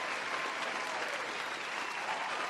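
A crowd claps steadily, a dense even burst of applause that holds for a couple of seconds without a break.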